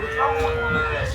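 A cow moos at a cattle market, one long, low, drawn-out call held steadily close by, with faint background noise around it.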